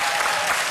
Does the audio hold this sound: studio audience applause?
yes